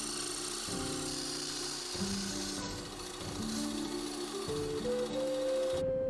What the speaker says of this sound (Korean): 스케치를 대충 해준 다음에 미니 벤츠소로 절단을 해줬습니다